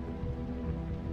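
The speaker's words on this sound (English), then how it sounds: "Rainy weather." Steady rain falls in The Wolf Among Us game, a dense, even patter that holds at a constant level throughout, with no voices over it.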